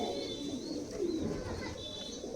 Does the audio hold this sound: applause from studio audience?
no